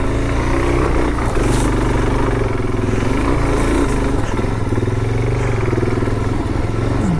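A Suzuki DRZ400 dual-sport motorcycle rides over rocks, its single-cylinder engine droning steadily and loud close up, with rattling clatter from the rough ground.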